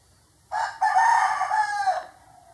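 A rooster crows once, close and loud, in a single cock-a-doodle-doo lasting about a second and a half. The call stands out against a quiet background.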